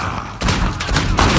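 Rapid gunfire in the video game Uncharted 4 survival mode, a dense burst of loud overlapping shots that swells and continues throughout without talk.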